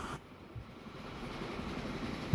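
Train rolling along in the video game Transport Fever 2, a continuous moderate rumble that starts with a brief shift then stays steady, ending on a short low thump.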